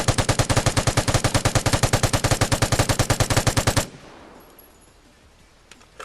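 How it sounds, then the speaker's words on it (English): A Vigor LMG in a video game unloads its full 41-round magazine in one long, rapid, evenly spaced burst of loud gunfire, then cuts off abruptly to quiet room tone. "I think we just need to let the gun shoot for a longer period of time. The whole 41 round mag."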